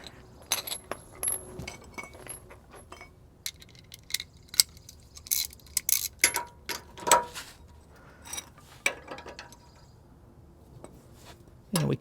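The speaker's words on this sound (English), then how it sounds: "we can switch to a ratchet." A ratchet loosening a nut on a front shock absorber bolt of a GM OBS K 3/4-ton 4WD truck: irregular bursts of metallic clicking and clinking, close up, with pauses between runs.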